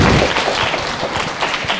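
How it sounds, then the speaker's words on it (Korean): Parents in a convention hall audience give a brief round of applause for a student presenter, a dense, close burst of clapping lasting under two seconds. "고생한 백석영 학생 큰 박수 한번 부탁드리겠습니다."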